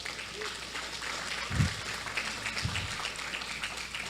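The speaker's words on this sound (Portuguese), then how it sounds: "Quem aplaude a Deus aqui dentro?" A congregation at a sermon gives sustained, fairly faint applause, a steady wash of clapping with a couple of low thumps partway through and no clear speech.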